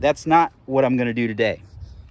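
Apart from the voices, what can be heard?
No everyday noise stands out behind the speech.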